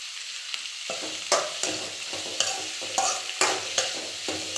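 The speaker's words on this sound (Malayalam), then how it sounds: "ഇനി ഇതൊന്ന് നന്നായിട്ട് വഴറ്റിയെടുക്കാം" Chickpea curry sautéed in a pan: a spatula scrapes and knocks in regular strokes about every half second over a low, steady sizzle, heard close up.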